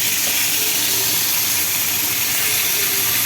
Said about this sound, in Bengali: তেলটা গরম হয়ে গেছে, আমি মাথাগুলো তেল নিয়ে দিয়ে দিলাম।